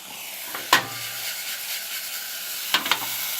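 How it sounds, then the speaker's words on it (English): Onions fry in a pan as the base for a carrot, ginger and turmeric soup, making a soft, steady sizzle and hiss with a few sharp clicks and pops from stirring. "So we're just going to let that sizzle for a little bit."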